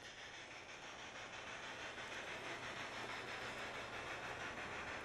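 Model railroad trains run at the Twin City Model Railroad Museum in St. Paul, Minnesota, giving a steady, even hiss and rumble of rolling stock with faint rhythmic clicking, constant and moderately loud throughout with no talking.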